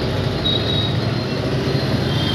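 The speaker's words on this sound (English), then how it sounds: "And of course, the train is coming." A train approaching a railway station rumbles loudly and continuously near the listener, a dense low roar of wheels and rail noise with a faint high whine, with no voices.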